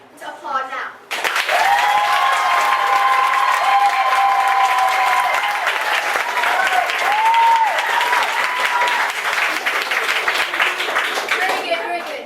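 A theatre audience at a school musical's mock trial bursts into loud, sustained applause after a short spoken line, with cheering and whoops over the dense clapping that runs for about eleven seconds.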